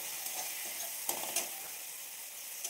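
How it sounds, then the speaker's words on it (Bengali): Dried kasuri methi fried in hot oil in a pan for a taro flower curry makes a bright, hissing sizzle, close and steady, with a couple of brief stirring scrapes and no speech. "আমি আজকে কসুরি মেথি দিয়ে দিচ্ছি আগে, এর সঙ্গে আমি একটু ভেজে নেব।"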